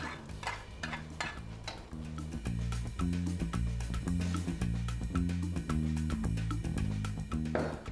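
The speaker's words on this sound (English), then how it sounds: "give all of that a really good stir fry" A wok spoon scrapes and tosses fried rice with chopped omelet in a wok, a stream of quick metallic stirring clatters under steady background music.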